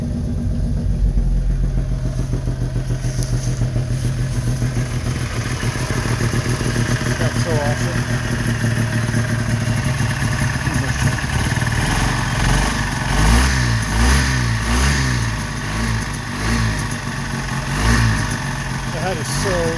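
Old Honda 600 car engine being dug out, running rough on choke: a steady mid-pitched idle with uneven rhythm, later rising in revs with wavering pitch, as a person talks over it.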